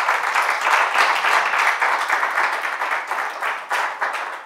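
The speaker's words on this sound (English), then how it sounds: "We can make a clap for them." Audience at an awards ceremony clapping, a dense, lively burst of applause that holds steady for several seconds before tapering off slightly.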